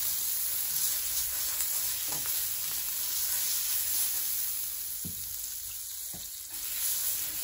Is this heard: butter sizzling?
yes